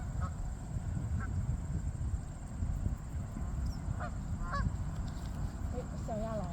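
Wild Canada geese give scattered honks, a few near and clear, others faint, over steady outdoor background noise, with people chatting softly nearby.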